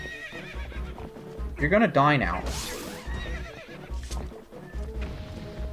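Horse neighing and whinnying in the video game Twilight Princess, with a loud rising whinny near the middle over steady hoof clip-clop and sword combat sounds, as someone talks throughout.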